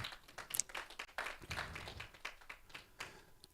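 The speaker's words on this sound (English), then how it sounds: "A round of applause for her," Sparse, faint clapping from an audience at an investors roundtable in Nigeria, a few scattered irregular claps rather than full applause.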